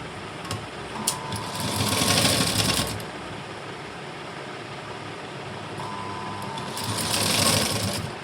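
A sewing machine stitches a binding strip onto a blouse neckline in two short, steady bursts of whirring separated by a quieter pause, close and loud with no talking.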